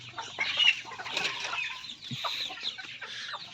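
Egg-laying hens on a Philippine backyard farm cluck repeatedly in short, busy bursts, several birds close by with overlapping calls and rustling.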